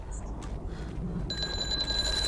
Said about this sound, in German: Dachte, ich wäre gerade durch eine Alarmanlage geschwommen.